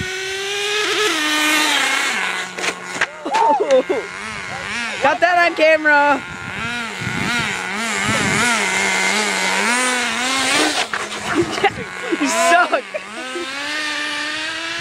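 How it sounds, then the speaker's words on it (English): A small Exceed Rally Monster RC car with a .18 nitro engine, whining close and loud, revving up and down in repeated climbing and falling pitch sweeps, while a man makes brief remarks over it. "part two of the Exceed Rally Monster Nitro car from Nitrorcx"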